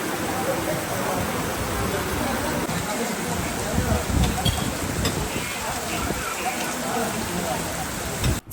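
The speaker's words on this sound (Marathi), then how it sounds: "तेव्हा बघतो तर काय चक्क पाऊस पडत होता" Rain falls steadily in South Goa, a continuous dense hiss of drops on surfaces that stays even throughout, with no voices over it.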